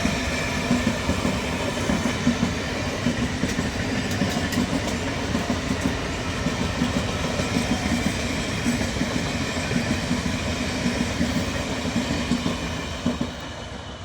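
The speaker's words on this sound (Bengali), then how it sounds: "এই যে ট্রেন এবার চলে আসলো।" A train runs along the Krishnanagar line toward Plassey, a continuous loud rumble with rhythmic clickety-clack of wheels over rail joints lasting throughout, steady and close.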